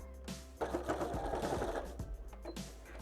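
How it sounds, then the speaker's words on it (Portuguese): A sewing machine stitches a fabric face mask in a quick, steady whirring burst of about a second and a half, close and clear, between quieter handling sounds. "Então, a gente vai passar uma costurinha aqui agora."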